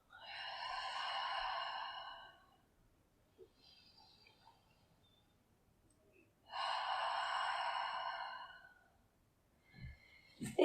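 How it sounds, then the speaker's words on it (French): Deep breathing during a stretching session, two long slow exhalations a few seconds apart, close and clear, with faint quieter breaths and small movement sounds between them. "Encore 3 respirations."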